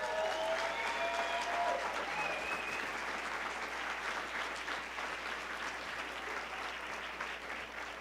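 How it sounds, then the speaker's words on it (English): A gala crowd breaks into sustained, dense applause for a Paralympic champion, steady and fairly loud throughout, with a few faint voices mixed into the wash of clapping. "So give her a round of applause, please."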